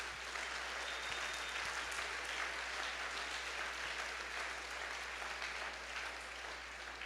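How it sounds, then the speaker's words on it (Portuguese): An audience at a church missions conference bursts into sustained applause, a dense even wash of clapping filling the hall without talk. "Pode aplaudir."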